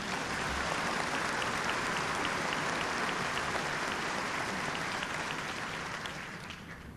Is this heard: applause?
yes